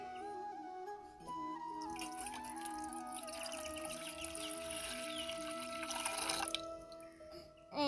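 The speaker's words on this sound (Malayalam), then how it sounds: "ആദ്യം നമുക്ക് കുറച്ച് വെള്ളം ഒഴിച്ചു" Water pours steadily into a vessel as the first step of making simple lemon juice. The close, continuous trickle with a rising ringing tone lasts several seconds, with no speech.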